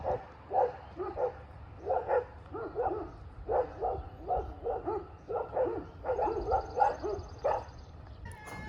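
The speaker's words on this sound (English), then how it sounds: "Dogs are barking." Three large dogs bark repeatedly in bursts at a moderate distance, overlapping yips and woofs in an irregular rhythm.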